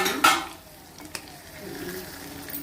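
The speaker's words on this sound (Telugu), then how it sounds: "ఇట్లా ఇప్పుడు అంత అడుగంటకుండా అలా కలుపుకోవాలండి" Broiler chicken curry, Andhra style, being stirred in a pan: a brief scrape of a spoon at the start, then soft intermittent scraping and a quiet sizzle, close and fairly low.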